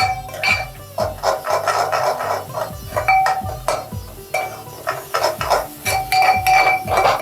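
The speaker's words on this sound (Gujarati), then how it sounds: "સતત હલાવવાનું. સાતળવાનું છે." A metal spoon scrapes and clinks rhythmically against a pan while fenugreek rice is sautéed, loud, close and continuous with repeated strokes and no talk.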